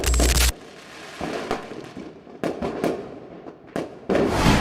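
Firecrackers explode at a celebration for a movie release, giving a string of loud, sharp bangs and crackles close by with short gaps between bursts.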